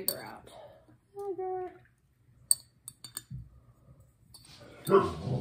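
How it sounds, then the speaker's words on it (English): A pet dog guarding the house barks at people passing on the sidewalk, a short burst of strained, whining barks at mid-distance, while a person speaks before and after amid small clinks. "that's my dog doing her guard dog duties, protecting us from people walking down the sidewalk"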